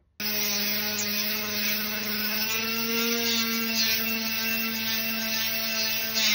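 A 780W rotary carving tool whines at a constant high pitch with a rough, buzzing grind as it sands wood, continuous and close.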